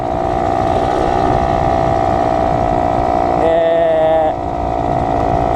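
A 50cc two-stroke motorcycle engine with six gears runs steadily, a buzzing, raspy drone close and loud with a brief higher-pitched rise partway through.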